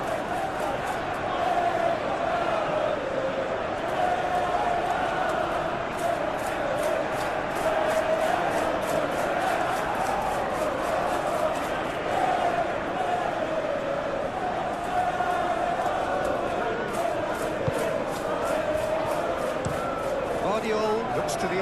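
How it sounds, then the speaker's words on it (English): Stadium crowd in the football game PES 2021, a steady loud roar of supporters that holds throughout beneath match commentary. "it certainly got the crowd going"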